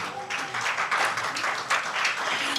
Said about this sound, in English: All right, a round of applause for Dizzy Mbata.